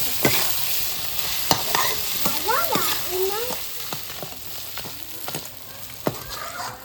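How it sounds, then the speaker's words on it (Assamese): Goat meat frying and being stirred in a home kitchen pan, a steady close sizzle broken by repeated sharp scrapes and clanks of the spoon, with a few squeaky utensil slides in between. "মাংসটো আমি মোটামুটি 20-25 মিনিটমান ভাজি ল'লোঁ"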